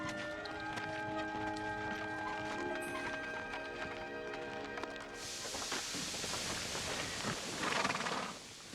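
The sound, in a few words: horse hooves clip-clopping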